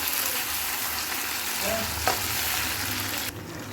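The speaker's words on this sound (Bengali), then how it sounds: "আমি এখানে দেড় চামচ আদা বাটা দিয়েছি দিয়ে ভালো করে এটাকে নাড়তে হবে" Ginger paste frying in a pan with a loud, dense, steady sizzle, stirred throughout with a couple of brief utensil clinks partway through.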